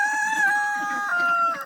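A rooster on a farm crows loudly and close by, one sustained, wavering cock-a-doodle-doo call heard alone.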